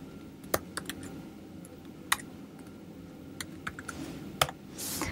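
Computer keyboard being typed on while writing Python code, scattered sharp clicks in irregular bursts over a quiet room hum, fairly faint and close.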